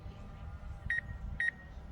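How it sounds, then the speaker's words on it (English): A drone in flight during a residential solar inspection sounds two short, high warning beeps about half a second apart over a low, steady hum of wind and rotor noise. "You see the drone is beeping already."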